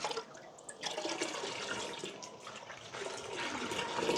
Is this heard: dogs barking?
no